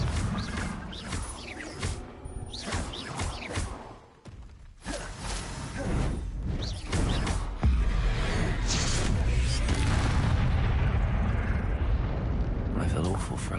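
Confringo blasting spell explosions in a Harry Potter video game, loud bursts and whooshing crackle repeating through the clip, with a rumbling sustained roar toward the end, under shouted spell casting.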